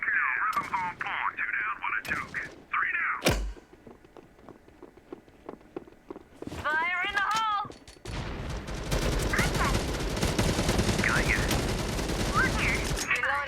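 Gunfire from the shooter game MATR1X FIRE crackles in rapid bursts, with a single sharp shot early and a long sustained stretch of automatic fire later, while someone talks throughout.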